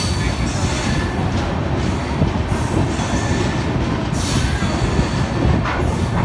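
Dehradun Tanakpur Weekly Express pulling out of Haridwar, a steady loud rumble of rolling coaches with rhythmic wheel clatter and faint rail squeal running throughout, no talking.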